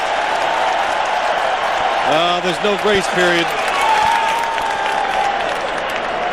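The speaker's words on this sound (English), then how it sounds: "And the crowd gives him a cheer." Detroit football stadium crowd at a 2002 New England versus Detroit game, a broad steady roar of cheering under close commentator speech, with a brief whistle-like tonal call in the middle.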